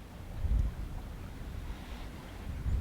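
Low, steady wind rumble buffeting the microphone, with a couple of stronger gusts near the start and end; no voices.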